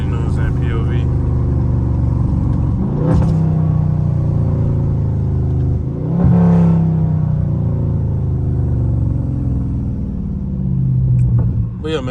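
Dodge Scat Pack driven at night in manual mode, its engine rumbling steadily and loud throughout, with a few swelling revs as it accelerates.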